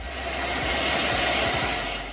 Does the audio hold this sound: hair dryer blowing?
yes